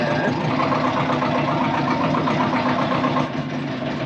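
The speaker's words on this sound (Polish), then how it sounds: "ciągnik odpala, także nie trzeba będzie go wypychać" Farm tractor engine running at a steady idle, a loud, close, continuous rumbling drone that holds evenly before dropping slightly in level near the end.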